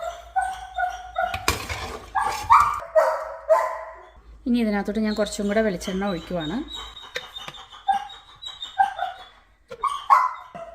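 A puppy near a kitchen where chicken feet are being cooked barks and whines, with yipping bursts and a drawn-out whimpering cry, while a person talks over it.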